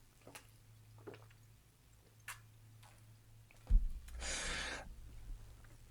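A person takes a quick drink of water in a quiet room, with a short gulp and wet mouth sound followed by a brief exhale, close to the mic and alone apart from faint ticks earlier.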